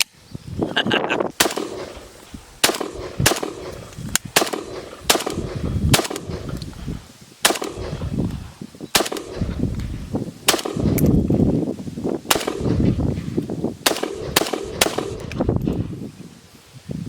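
An AK-47 rifle fires a series of sharp, loud single shots at an irregular pace, roughly a dozen reports ringing out over outdoor background noise and occasional voices.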